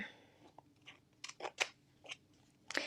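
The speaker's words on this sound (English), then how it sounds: "So now I'm going to use my scissors. We'll go around this and get it completely cut out." Scissors snipping around a cut-out paper shape for Christmas crafting, a handful of crisp separate cuts at an uneven pace, close and fairly quiet with no talk.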